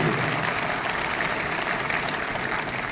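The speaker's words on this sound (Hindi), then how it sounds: "जोरदार तालियां हमारे great leader, great mentor Tarun ji" Audience applause at a Modicare business event, a dense, steady burst of many hands clapping for the whole short stretch.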